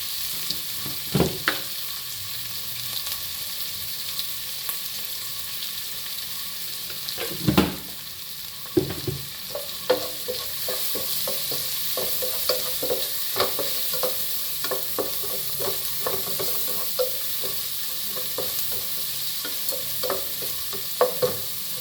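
Ginger, green chilli and curry leaves sizzle steadily in hot oil for aval upma, with a spoon stirring and scraping the pan at intervals under the continuous frying hiss.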